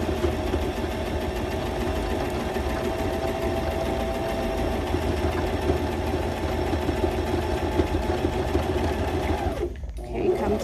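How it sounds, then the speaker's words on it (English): A sewing machine stitching fabric for a kids' bunny sewing kit, a loud, close, continuous rapid whirring chatter that runs steadily before halting abruptly near the end. "put your presser foot back down, and then stitch again"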